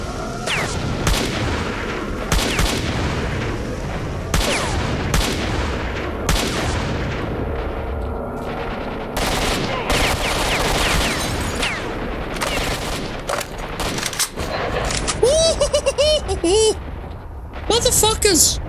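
Gunfire in the video game STALKER Shadow of Chernobyl, repeated sharp shots and bursts crackling through a busy firefight, with someone talking over the shooting.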